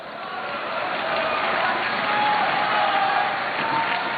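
A large political rally crowd in Pakistan roars steadily with cheering, applause and chanted slogans, a dense continuous wall of noise swelling slightly midway and holding for several seconds without a break.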